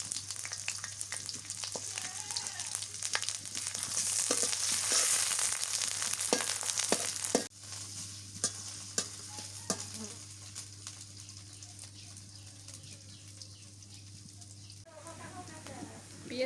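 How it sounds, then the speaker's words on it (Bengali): Chopped onion and green chillies fry in mustard oil in a pan for a beef and bottle gourd curry, a steady close sizzle that is loud at first, then drops to a quieter crackle with occasional clicks. "পেঁয়াজ মরিচ ভাজা হয়ে গেছে"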